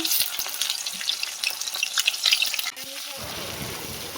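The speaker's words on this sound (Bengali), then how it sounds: "এই লুচি ভাজা তেল অর্ধেক তুলে নিয়েছি, আর অল্প আছে, তার মধ্যে এই টমেটো দিয়ে দিচ্ছি" Tomatoes go into a pan holding a little leftover oil from frying luchi, with ginger and cumin paste nearby. A loud, close, steady sizzle and crackle fills the pan, and the hiss changes texture near the end as the contents settle.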